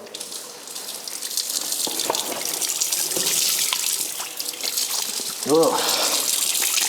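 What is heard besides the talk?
carbonated water pouring from a push-button water tap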